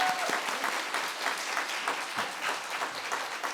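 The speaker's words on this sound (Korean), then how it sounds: "크게 박수 한번 하도록 하겠습니다" A church congregation claps together in steady, moderately loud applause at a Sunday afternoon service, dense continuous clapping for a few seconds.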